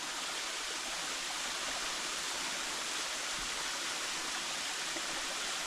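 Steady roaring wash of a waterfall on the Sougahoagdee Falls trail in Alabama, dense and unchanging throughout, with no one talking.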